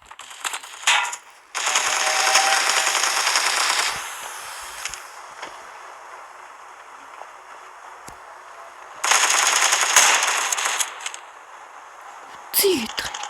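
Gunfire rings out in a sniper match of a video game: two long, loud bursts of rapid shots with a few sharp isolated cracks. Quieter stretches of game sound fall between the bursts.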